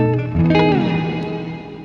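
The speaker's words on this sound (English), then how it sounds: "it gives it almost like a warbly, kind of grainy sound to the reverb" A sustained guitar tone through a Walrus Audio Sloer reverb pedal swells into a shimmering, warbling reverb with a grainy, pitch-wavering texture that slowly decays.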